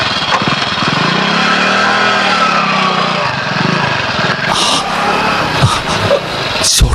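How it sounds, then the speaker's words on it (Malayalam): Motorbike engine from a Malayalam radio drama, a steady buzzing whine that rises and falls in pitch as the bike draws near, loud and close throughout with no talking. "ഷോട്ടുന്റെ ബൈക്കിന്റെ ശബ്ദം."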